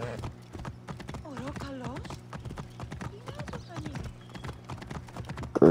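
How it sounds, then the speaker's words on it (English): Hooves of a horse in a video game clip-clop in a steady trot with an occasional whinny, the horse close by, while people talk over it. "Gerg is my infamous Red Dead Online horse."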